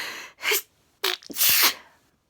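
Close, loud sneezing at bedtime: a sharp inhale followed by one sneeze, then a quick catch of breath and a second, longer explosive sneeze, with no one speaking.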